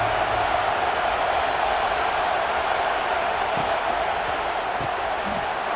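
A college football stadium crowd roars in a sustained, dense wall of cheering that stays loud and unbroken throughout, with no distinct voices standing out.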